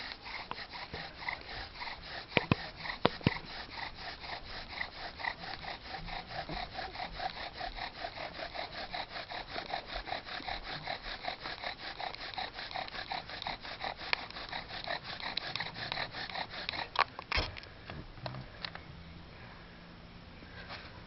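Bow drill spindle grinding against a wooden fireboard while lighting a fire, a fast rhythmic back-and-forth rasping friction that runs steadily for many seconds up close, with a couple of sharp knocks before it slows and stops.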